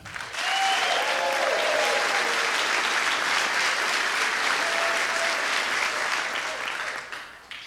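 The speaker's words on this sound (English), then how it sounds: "I want you to clap this much for the team who puts on this event." Steady, enthusiastic applause from a large conference keynote crowd, dense and continuous for several seconds before tapering off at the end.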